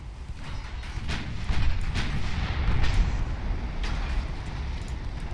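Warship secondary guns fire in Ultimate Admiral Dreadnoughts, a series of muffled booms and cracks spread over a low rumbling battle background, moderately distant and continuous.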